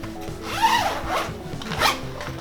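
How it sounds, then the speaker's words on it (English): Zippers on Normatech leg compression cuffs are pulled open in a few quick rasping strokes, close and clear, with nobody talking. "So we're now going to unzip our cuffs"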